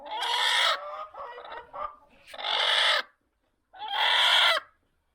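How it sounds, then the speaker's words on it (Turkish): A hen in a coop lets out loud, agitated clucks and squawks in several harsh bursts, very close, with short pauses between calls. "Aha, burada bir tavuk varmış."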